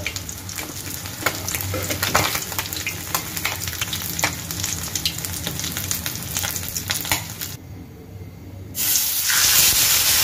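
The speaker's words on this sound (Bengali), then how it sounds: "আবার মাছ ভাজা হয়ে গেছে, দেখুন কত সুন্দর করে লাল করে ভেজে নিয়েছি" Poma river fish fry in hot oil with a constant, crackling sizzle nearby. It dips briefly, then returns as a louder hiss.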